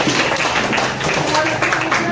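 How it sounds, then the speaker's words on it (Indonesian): Classroom applause from a group of students, a steady, fairly loud patter of clapping filling the whole stretch, with voices mixed in underneath. "Beri tepuk tangan untuk masing-masing."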